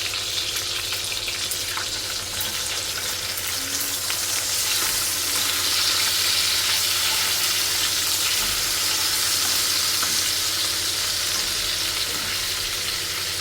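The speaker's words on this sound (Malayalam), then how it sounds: "ഇത് പൊരിച്ചെടുക്കാം." Fish roe fries in a pan with a loud, steady sizzle and crackle, a close, continuous hiss with occasional faint pops throughout.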